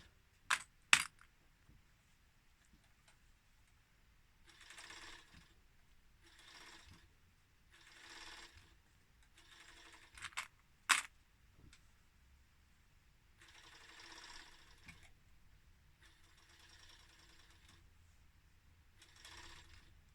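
A domestic sewing machine stitches elastic onto clothing fabric in several short runs of rapid mechanical whirring. Sharp clicks and clacks fall between the runs, all fairly faint and close.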